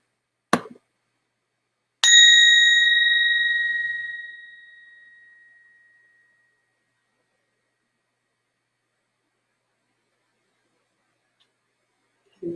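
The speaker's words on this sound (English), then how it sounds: "I will ring this bell and listen to the bell until you don't hear it any longer" A meditation bell is struck once and rings with a clear, pure tone that slowly decays over about four seconds into silence, preceded by a brief click and followed by a quiet thump.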